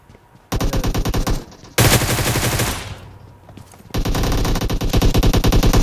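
Rapid automatic gunfire in the mobile battle-royale game PUBG Mobile, with loud sustained bursts of rattling shots broken by a brief pause.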